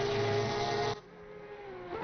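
A high-pitched racing engine in a sim racing game league qualifying session screams loudly, then cuts off abruptly, leaving a quieter buzzing drone with a brief rise at the end.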